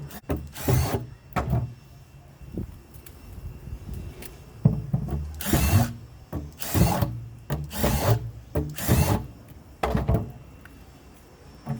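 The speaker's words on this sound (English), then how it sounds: "we're going to start drilling holes into the buckets" A power drill buzzes in repeated short bursts, close and loud, with brief pauses between each hole drilled into plastic buckets.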